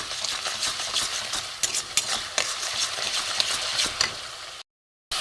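Masala stirred and fried in oil in a pan for a chicken kofta curry: a close, continuous sizzle with scraping stirring strokes, cutting out briefly near the end.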